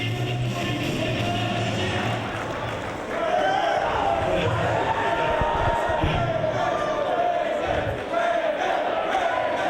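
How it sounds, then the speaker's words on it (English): A dense wrestling crowd at a Ring of Honor show in Philadelphia roars and shouts continuously, loud and sustained, with a commentator talking over the noise. "There you hear the crowd behind Raven."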